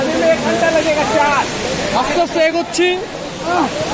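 A waterfall in the Ayodhya hills of Purulia gives off a steady, loud broadband rush that fills the background while people talk close by.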